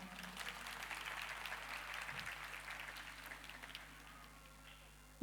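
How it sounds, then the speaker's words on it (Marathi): Steady crowd applause for Mrinaltai at an award ceremony, a dense, fairly faint wash of many hands clapping from an audience in a hall that continues for several seconds before fading. "मृणालताईंसाठी जोरदार टाळ्या"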